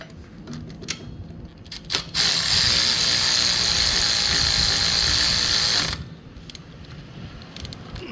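A socket ratchet with a 1/2-inch drive and 1/2-inch socket tightens the kickstand bolts on a 2023 Honda Super Cub 125, giving one loud, continuous run of close ratcheting clicks lasting about four seconds with no talk.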